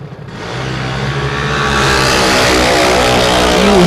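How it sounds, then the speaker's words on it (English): Drag racing cars launch off the starting line at Portland International Raceway, engines exploding into a loud, rising roar that builds and holds strong through the run, with no talk over it. "Can Sydney the Squid hold off Sean at the top end as we are in pretty much a heads-up drag race"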